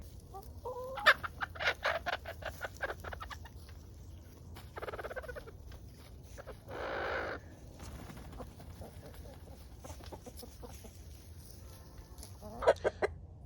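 Roosters and hens on a backyard farm: scattered clucks and short calls at moderate distance, with patter and rustling around them and brief bursts of noise.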